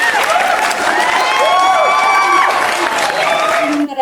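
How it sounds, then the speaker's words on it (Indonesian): An audience at a national-level Indonesian Red Cross (PMI) SIBAT joint training event applauds, with steady close clapping mixed with cheering voices throughout. "tepuk tangan buat PMI"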